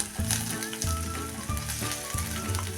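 Vegetables sautéing in a pan for an onion- and garlic-free festive dish, a dense continuous sizzle with a low rhythmic thumping recurring about every two-thirds of a second, close and steady.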